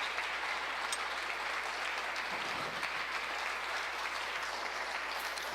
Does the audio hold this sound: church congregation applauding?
yes